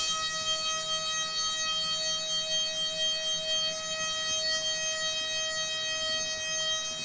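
A DATRON CNC milling machine cutting at 38,000 RPM and 9,000 millimeters per minute with a 0.5 step over, giving a loud, steady, high-pitched tonal whine with layered overtones that holds unbroken, with no talking.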